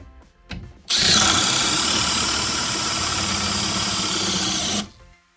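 A Makita LXT XPH14 cordless hammer drill with a failing battery drills a hole: a loud, close motor whine starts abruptly, holds steady for about four seconds, then winds down and stops.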